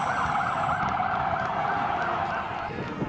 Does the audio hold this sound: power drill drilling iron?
no